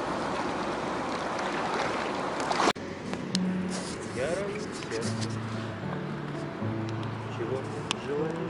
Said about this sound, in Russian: Очень быстрая, очень мощная река.